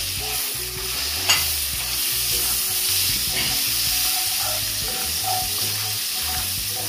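Chopped onion hisses and sizzles steadily in a hot pan with a continuous frying crackle, one sharp clack early on and softer stirring scrapes throughout, no voices.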